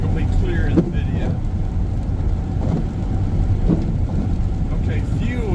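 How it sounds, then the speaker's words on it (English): Rain drums steadily on a Chevy van driving at about 55 miles an hour, mixed with road and engine rumble, a dense continuous wash with brief voice in the cabin. "In the rain."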